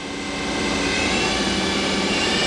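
Feeler HT 30Y CNC turning center spindle running at 2,000 RPM, a loud, steady high-pitched whirring hum that builds slightly at the start and then holds constant.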